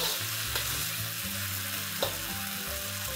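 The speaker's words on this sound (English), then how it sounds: "I'm just going to allow the vegetables to cook for a minute." Vegetables for chilli idli frying in a pan give a steady, close sizzle and hiss, with the soft scrape of stirring running underneath throughout and no voices.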